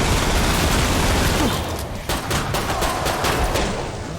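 Dense, continuous gunfire from Killing Floor 2, loud and sustained bursts of rapid shots blending into a roar, with a few sharper cracks toward the end and no talking.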